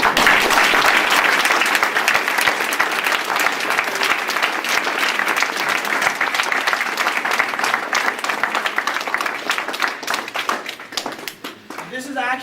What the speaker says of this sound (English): let's give all the adult leaders in the room a big round of applause